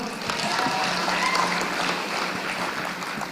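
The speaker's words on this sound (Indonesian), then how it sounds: "tepuk tangan buat kita semua" Applause from an audience at an Indonesian higher-education event, steady dense clapping filling the space at moderate volume with some voice activity mixed in.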